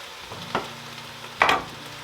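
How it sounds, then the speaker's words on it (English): Ground beef and onion sizzling in a soup pot, a steady close frying crackle with two brief louder stirring scrapes. "I'm just going to let the ground beef and onion cook all together"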